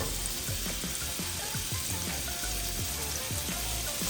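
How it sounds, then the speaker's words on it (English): Salmon bites sizzle steadily in cooking oil in a pan, a continuous close crackle with faint popping spatters throughout and no talk. "And we're gonna cook our salmon for about 5 minutes."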